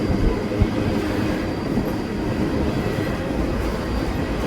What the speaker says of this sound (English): Not only did it have 3 locomotives in the front, it had 4 mid-train DPUs